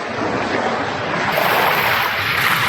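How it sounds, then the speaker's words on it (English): Ocean waves wash over a reef off the Jamaican coast, a loud, steady, close roar of surf with no voices. "then you have the waves and the boats coming in and other elements"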